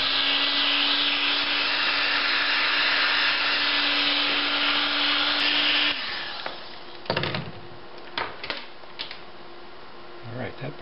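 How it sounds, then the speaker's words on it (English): A heat gun or similar blower runs steadily at close range for about six seconds while shrinking heat-shrink tubing over joined wires on a motor controller install, then cuts off, leaving a few light handling clicks and taps. "then we can heat shrink these two together"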